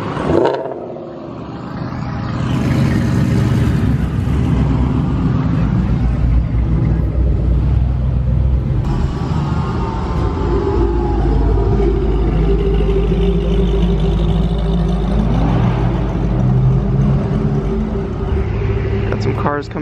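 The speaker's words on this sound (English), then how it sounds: "Got some cars coming in." Street cars rolling into a gas station, several engines rumbling and revving up close, a loud, continuous low drone that builds and holds, with people talking over it.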